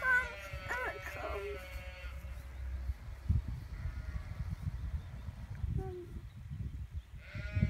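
Sheep bleat a few times near the start, wavering calls close by, then soft rustling and low background noise continue, with a brief faint bleat later.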